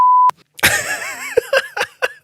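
A single sharp, steady censor bleep cuts over a word, lasting about a third of a second, then a person keeps talking in a lively voice right after it.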